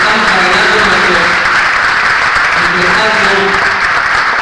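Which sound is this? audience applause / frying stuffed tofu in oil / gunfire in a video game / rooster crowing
audience applause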